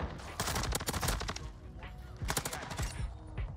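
Shotgun fire in the video game Modern Warfare 2: loud, close blasts come in dense clusters, then a brief lull and another burst.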